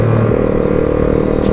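Yamaha Jupiter MX motorcycle climbing on a cold mountain ride, its small engine buzzing steadily and loudly up close with wind rush, no voices.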